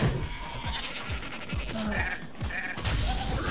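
Sheep bleat in the Tokyo Jungle video game, short repeated cries over a busy, thumping game soundtrack with rhythmic low hits throughout.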